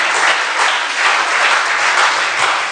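A church congregation applauds in a dense, sustained wash of clapping that swells and fades slightly, filling the room throughout.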